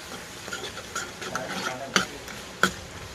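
A spoon stirs salt and other ingredients together in a pot, with soft scraping swirls and two crisp clinks of metal against the pot's side, close and fairly quiet.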